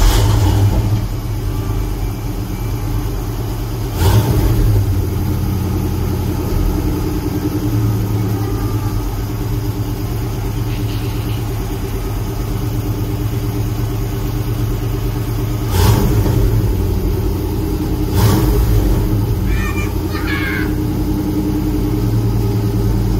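A hybrid car pulling away, its steady, low, mid-pitched engine rumble droning continuously, with a few brief thumps and faint distant voices.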